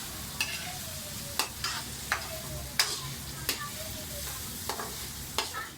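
Spatula scraping and stirring chopped sayote with pepper and salt in a pan, about eight sharp clacks at uneven intervals over a low steady sizzle, close and moderately loud, with no talking.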